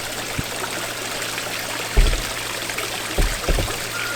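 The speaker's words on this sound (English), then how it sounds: "I'll show you what the waterfall looks like now that that's cleared off" Small garden waterfall beside a duck pond trickles and splashes steadily, close by, with a few brief low thumps or knocks over the running water.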